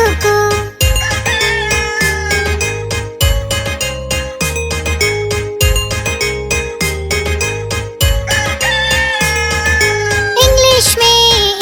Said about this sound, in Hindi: मुर्गा सुबह सुबह बोले कुकड़ू को कुकड़ू को